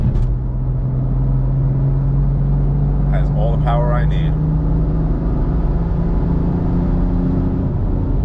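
A BMW F82 M4 with a turbo build cruising in drive gives a steady low engine drone throughout, heard from inside the car while a person speaks briefly over it.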